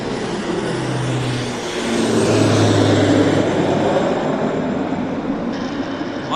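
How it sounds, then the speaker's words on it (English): A Beechcraft King Air turboprop medevac plane lands at Vancouver International Airport, a steady broad roar with a low drone that swells slightly, heard from a distance outdoors. "No, we got a King Air coming in."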